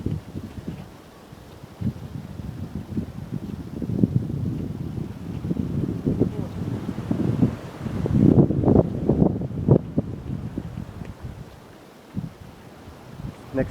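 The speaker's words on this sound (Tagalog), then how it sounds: "Hindi, lakas din ang hangin eh." Strong wind buffets the microphone on an open trail between a mountain peak and a campsite, a steady roaring rush with louder gusts swelling toward the end.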